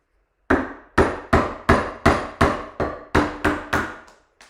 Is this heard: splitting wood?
yes